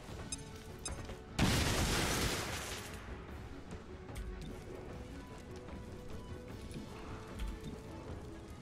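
A grenade blast in the XCOM Chimera Squad video game, one loud, sudden boom that rumbles and slowly fades over a couple of seconds, then leaves a low steady game ambience.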